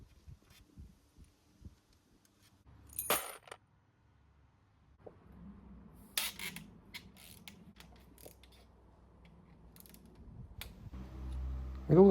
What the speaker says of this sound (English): I can now loosen and remove the crankcase bolts.